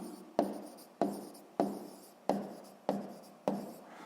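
Pen writing a value by hand on paper, six regular scratchy strokes roughly every half second, close and clear with no talking.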